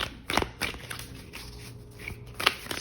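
Tarot cards being shuffled by hand, a series of soft riffling flicks and papery slaps at an uneven pace, close and fairly quiet.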